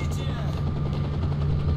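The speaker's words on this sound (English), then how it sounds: "Yeah, helicopter." A helicopter in the video game STALKER: Shadow of Chernobyl gives a continuous, loud rotor drone with a steady low throb, while a voice talks over it.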